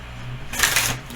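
A deck of cards is shuffled once in a quick, crisp riffle lasting about half a second, close and moderately loud against a quiet room.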